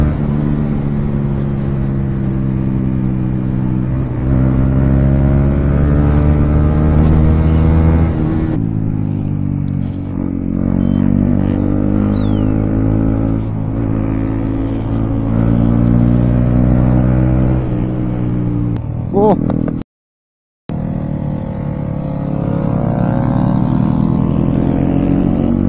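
Motorbike engine revving hard and droning steadily during a fast, rash ride through a market, loud and close throughout, with a brief dropout near the end and no talk.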